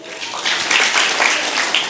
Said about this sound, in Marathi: माझ्याबरोबर सगळ्यांनी टाळ्या वाजवायच्या,